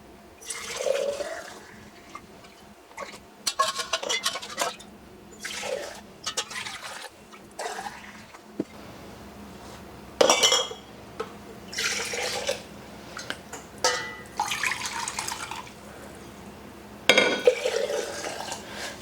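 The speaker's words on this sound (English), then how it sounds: "straining out the last little bit now" Home-made chicken stock being strained for canning: liquid pours and splashes in bursts into pots and jars, with intermittent clinks of metal and glass and drips between pours, close by and without talk.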